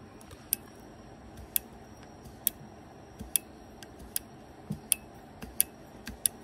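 Sharp, light clicks from a YSS rear motorcycle suspension rebound adjuster arrive one at a time in an irregular series, close and crisp over a quiet low background hum.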